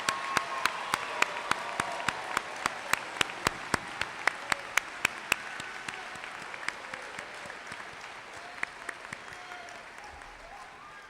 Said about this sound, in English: please join me in giving the 400-plus graduates of the Norristown Area High School 146th class a round of applause